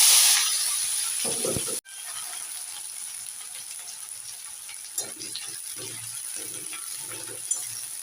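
Onions drop into hot mustard oil already seasoned with black cumin and a bay leaf, starting with a loud hiss that settles into a steady close sizzle with occasional stirring clatter and no talking.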